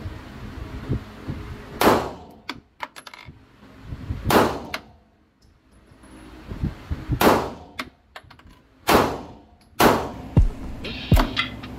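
A CZ Shadow 2 pistol fired during zeroing at a range: about five sharp, loud single shots spaced a couple of seconds apart, each with a ringing clang, and no talking.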